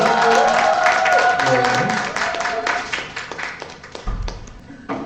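Applause and clapping from a book concert audience welcoming two speakers, mixed with talk and other sounds early on, then thinning into scattered, separate claps before fading.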